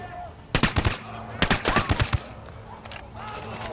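Automatic gunfire in the video game Ghost Recon Wildlands, two loud rapid bursts of shots close up, each lasting under a second, with quieter ambient game sound and faint background noise between and after.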